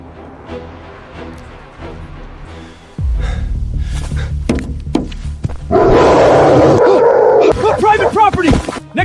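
Guard dogs on private property bark and snort loudly and close by, in several harsh bursts mixed with gasps, shouting and other noisy commotion.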